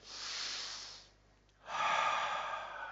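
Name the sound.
deep breath in through the nose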